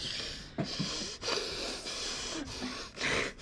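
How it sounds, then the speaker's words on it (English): A dog sniffs hard at a door, rapid sniffing and snorting bursts close to the microphone, with brief breathy gusts against a noisy background. "He's sniffing so hard."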